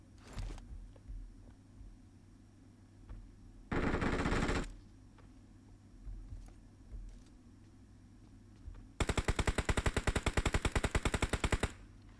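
Automatic gunfire in the PUBG Mobile battle royale game: a short loud burst around four seconds, then a long rapid stream of shots near the end, with faint scattered clicks and a steady low background between.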